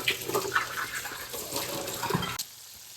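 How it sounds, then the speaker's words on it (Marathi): Water runs steadily from a tap into a home kitchen sink while dishes are washed, and the flow stops abruptly near the end. "आपण भांडी घासून घेऊया"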